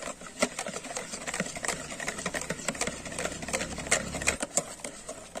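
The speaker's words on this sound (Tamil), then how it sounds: "இப்படி நல்லா பீட் பண்ணிட்டே இருங்க." Mayonnaise is beaten steadily as oil is added, producing fast, rhythmic clicking and whirring at a moderate, even pace throughout.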